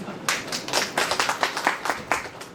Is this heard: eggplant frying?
no